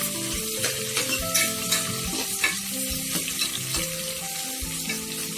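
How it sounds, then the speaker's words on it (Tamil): Onions frying in oil for a half-kilo brinji, stirred steadily so the spoon scrapes and clatters in a rhythm over a constant close sizzle, with no voices. "நல்லா கிளறிடலாம்"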